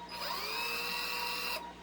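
A variable-speed power drill whines at a steady high pitch for about a second and a half, then cuts off abruptly.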